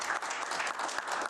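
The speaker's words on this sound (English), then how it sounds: "So a big round of applause for you guys." Applause from a city council meeting audience for newly introduced council members, a steady dense clapping wash at moderate level filling the whole moment with no speech.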